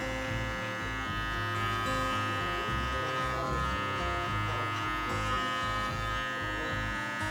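Electric hair clippers with no guard and the lever open buzz steadily and close-up throughout, a constant droning hum during a mid-bald fade.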